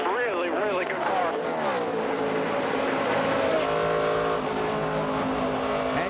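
NASCAR Nationwide Series race cars roar across the start-finish line at Michigan, their engines sweeping up and down in pitch as several pass close by, heard under a commentator's talk.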